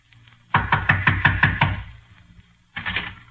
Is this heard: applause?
no